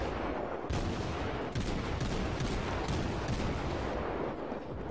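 A German cruiser in the World of Warships video game fires shells in rapid salvos, dense overlapping booms and cracks rolling continuously with a few sharper blasts standing out, loud and close.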